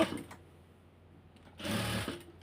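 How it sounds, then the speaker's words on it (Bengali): A sewing machine stitches lace onto a hijab in two short close bursts, a brief whirr at the start and a second run near the end, with a quiet pause between and no voices. "দেখুন আমি কিভাবে সেলাই করতেছি।"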